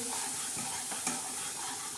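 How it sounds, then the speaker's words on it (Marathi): Green masala of ground green chillies, peanuts, coriander and cumin is stirred into red pumpkin frying in a pan, a steady sizzle carrying continuous spoon scraping with one sharper knock near the middle. "हिरवा मसाला आपण टाकणार आहोत डांगराला वाटल्याला, आणि मस्त असं छान असं हलवून घेणार"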